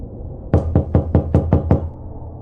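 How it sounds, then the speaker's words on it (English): Seven loud, evenly spaced knocks on a door in quick succession, close and sharp, with nothing else heard. "there was a sudden loud knock on the door."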